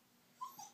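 A puppy gives two short, soft whimpers close by, a high thin whine followed quickly by a second fainter one in an otherwise quiet room.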